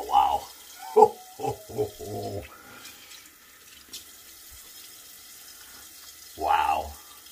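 Water runs from a tap for a rinse during a shave, a soft, steady flow heard under and between bursts of close talking.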